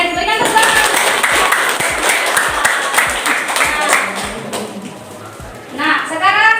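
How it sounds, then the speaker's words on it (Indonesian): Classroom applause during a science lesson, with scattered hand claps from a group of students mixed with chatter and voices, loud and close, fading slightly before a brief burst near the end. "Oke, berikan tepuk tangan."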